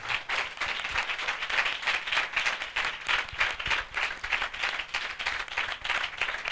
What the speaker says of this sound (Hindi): हम जोरदार तालियों से उनका स्वागत करें